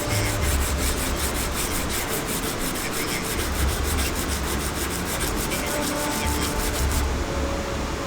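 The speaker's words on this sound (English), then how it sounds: "Now we're going to hand sand our blade. We're gonna start using the 120 grit as well and go up to 320." A forged steel spear blade is hand sanded with sandpaper, giving quick, rhythmic, close rasping strokes that repeat steadily back and forth with no talk.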